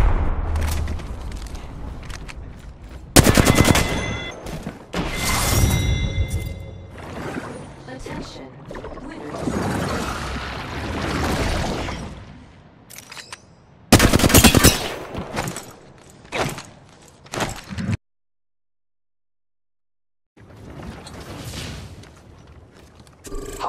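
Gunfire from the video game Apex Legends in the middle of a squad fight, with loud bursts of shots and booms at about 3 and 14 seconds among busy game effects, while a voice talks over the action.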